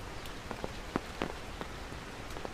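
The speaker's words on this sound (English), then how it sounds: "this one hasn't been as bad as the last two bands of rain" Scattered raindrops from a typhoon patter and tap on a surface, irregular and fairly quiet, over a steady wash of rain noise, on a Hong Kong peak.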